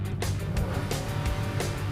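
A V8 engine in a Chevy or Ford police car roars and revs with a thick, continuous rumble, loud and close, with gritty broadband noise as the car drives on a dusty track.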